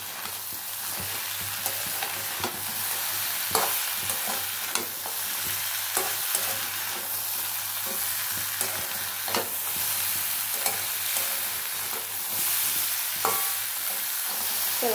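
Crab and potatoes are stirred and sautéed in a hot pan, a steady sizzle broken by repeated scraping spoon strokes at an uneven rhythm, close and alone.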